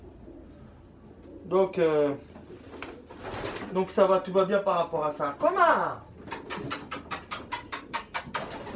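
Pigeons freshly through their moult cooing in a loft, a few drawn-out throaty coos in bursts, close and clear, with French speech from the keeper and some tapping and patter near the end.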